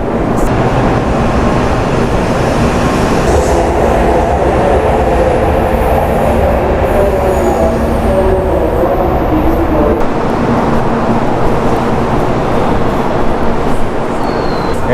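A Shinkansen train at Kumamoto station, a loud, steady rumble and roar of the train filling the whole stretch.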